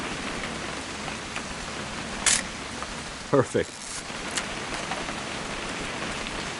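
Steady rain falls throughout a scene in the video game What Remains of Edith Finch, a continuous hiss with a few sharper taps and knocks, while a voice speaks briefly.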